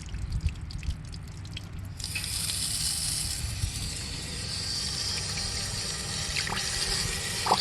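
Water pours steadily from an RV faucet while the water heater is being flushed, a sudden broad rushing hiss that starts about two seconds in after a quieter dripping, close and continuous to the end.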